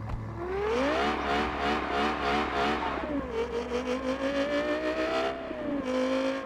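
A car driven in the mobile game Car Parking Multiplayer, its engine tone revving up and down through gear changes in a smooth rising and falling whine, loud and continuous with no talk.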